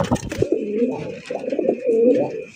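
An old-strain Golla pigeon coos in low, throaty rolling phrases close by, after a brief burst of fluttering and shuffling at the start.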